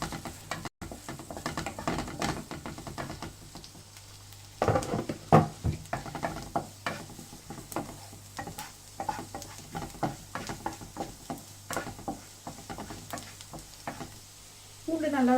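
Chopped garlic sautés in melted butter in a pan for Italian-style pasta, giving a steady close sizzle broken by repeated scraping stirs of a utensil against the pan.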